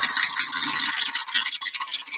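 A freshly sharpened gouge cuts wood on a lathe for a farmhouse plate, giving a close, continuous high-pitched scraping hiss that wavers slightly and eases off toward the end.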